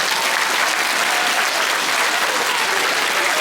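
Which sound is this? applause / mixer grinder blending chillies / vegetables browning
applause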